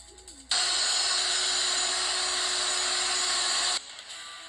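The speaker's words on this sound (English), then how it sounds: "The vacuum cleaner." A vacuum cleaner in a stop-motion animation roars into a loud, steady whir after a brief quiet moment, runs evenly for about three seconds, then cuts off abruptly. No voices are heard.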